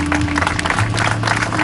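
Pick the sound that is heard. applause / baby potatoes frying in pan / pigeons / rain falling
applause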